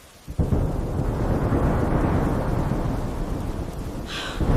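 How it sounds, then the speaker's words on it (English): A sudden thunder crack during a rainstorm, breaking into a loud sustained rumble that rolls on for several seconds over steady rain hiss, heard alone without speech. "Thunder cracked, right at that exact moment."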